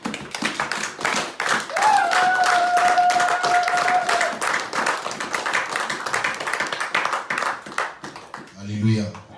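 A church congregation claps steadily and cheers in acclamation, the dense clapping filling the room while voices rise over it, ending with a brief spoken word near the close.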